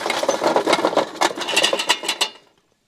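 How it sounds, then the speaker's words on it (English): A Harvest Fiesta cider apple grinder runs with a loud, dense mechanical whir, chopping apples in rapid bursts and clattering pulses for about two and a half seconds before cutting off to silence. "So this is our first batch going through the first Harvest Fiesta grinder here."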